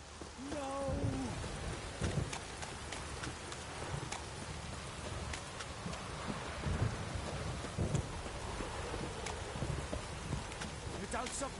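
Steady rain hisses throughout a thunderstorm in the video game The Witcher 3, with thunder rumbling underneath, while a voice speaks briefly near the start.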